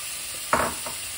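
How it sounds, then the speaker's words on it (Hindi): Chopped apples hit a hot pan with ginger and spices and are stirred, giving a single short burst of sizzle and scraping in an otherwise quiet kitchen. "इसको एक अच्छे से सौते देंगे और अब इसमें जो हमने अपने एप्पल्स कट करके रखे थे उन एप्पल्स को डाल देंगे।"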